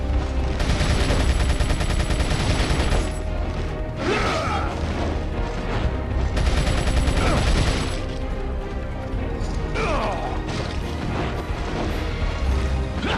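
Gunfire and loud clashing combat from the Krauser fight in Resident Evil 4, a dense continuous wall of game noise with repeated sharp impacts and metallic crashes layered over music.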